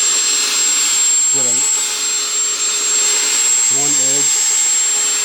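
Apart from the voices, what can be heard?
drill with sanding pad on Prius headlight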